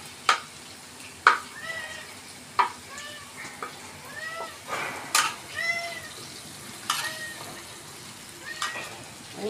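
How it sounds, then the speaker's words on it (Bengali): Meat frying lightly in a pan for a polao-and-meat dish gives a steady soft sizzle, with a cat meowing repeatedly and fairly close over it. "অবশেষে আমার মাংস ভাজা হয়ে গেছে।"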